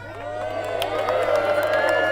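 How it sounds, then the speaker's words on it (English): A crowd at a medieval joust at Leeds Castle cheers and claps for the English team, a steady wash of distant cheering and applause with scattered whoops, no clear speech over it. "So let's give a big cheer for the English team as they start the day."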